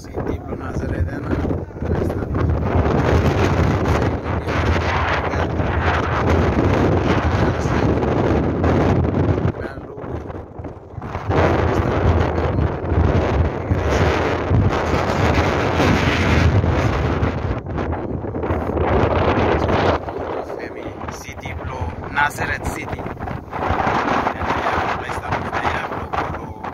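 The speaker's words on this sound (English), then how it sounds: "very windy" Strong wind buffets the microphone outdoors in Nazareth, northern Israel, a loud, continuous roar with gusty surges and brief lulls throughout.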